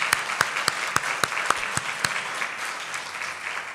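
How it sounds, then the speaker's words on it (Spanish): Church congregation applauding, with sharp, evenly spaced claps standing out over a softer bed of crowd clapping that gradually fades toward the end. "Ahora dale un aplauso."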